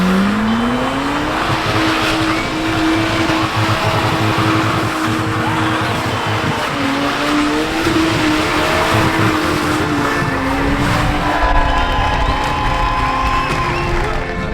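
Lexus IS200 doing rings trackside at a drifting motorsport event, its engine note rising and falling steadily alongside continuous tyre squeal, with a crowd cheering faintly beneath throughout.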